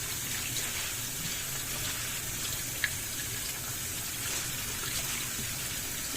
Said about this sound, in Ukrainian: розмаринчику зараз буду мити. Вода, щоб була і не холодна, тепленька.